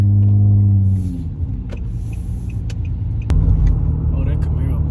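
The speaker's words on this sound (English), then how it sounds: "Oh, that Camaro, boy." A Chevrolet Camaro drives past outside a restaurant in Arizona, its engine a loud low rumble that builds and then fades. The roar surges again near the end. Voices can be heard faintly.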